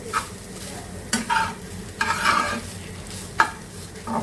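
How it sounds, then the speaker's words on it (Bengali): Cauliflower, pointed gourd and potato frying in a pan, with repeated spatula scrapes and knocks over a continuous hiss of frying, heard near and clear without speech. "এখানে ফুলকপি ভাজি করা হচ্ছে ফুলকপি আর পটল আর আলু দিয়ে ভাজি হচ্ছে"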